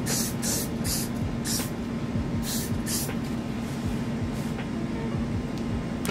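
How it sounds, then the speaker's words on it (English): An aerosol can of hair glue spray is sprayed onto styled hair in short, sharp hissing bursts, about five or six in a row early on, then quieter. A steady background hum continues throughout. "Some got to be glue spray"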